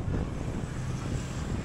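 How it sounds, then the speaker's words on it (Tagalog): Strong typhoon wind roaring steadily into the microphone during a pedal-trike ride in Pangasinan, Philippines, a loud continuous rumbling buffet with no break across the whole short stretch. "Grabe, pagsalubong talaga yung hangin."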